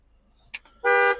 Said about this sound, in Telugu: హార్న్స్ కూడా మంచి వర్కింగ్లో అయితే ఉన్నాయి.